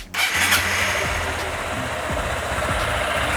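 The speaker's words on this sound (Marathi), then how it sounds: "आता गाडी चालू केल्यावर हिला 2 मिनिटं असंच चालू ठेवायचं आहे" A motorcycle engine, just back from a home oil change, cranks over and catches, then settles into a steady close idle with a low, even thrum that continues unbroken to the end.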